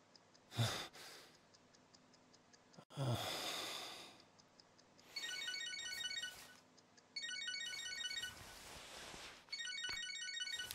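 A phone ringtone in the video game Catherine chirps in repeated bursts, a bright electronic trill sounding three times after a couple of breathy sighs at the start.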